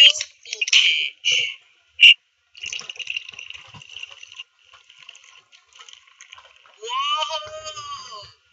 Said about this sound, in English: Now we're gonna pour the Mountain Dew Voltage.